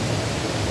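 Marmore waterfall in Italy: a dense, steady roar of rushing water, broadband and continuous, heard alone at moderate volume for under a second.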